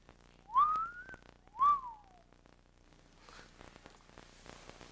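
Two short rising-and-falling wolf-whistle-like notes from a person whistling, fairly clear in a quiet room, followed by faint rustling.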